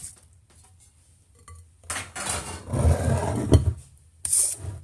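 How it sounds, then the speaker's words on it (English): Spoon scraping and clinking against a pot while food is stirred at home, quiet at first, then a louder stretch of rasping strokes and a couple of sharp metallic taps near the end. "And then I'm going to stir it on up"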